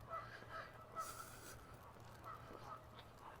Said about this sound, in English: I think there is a complete murder of crows around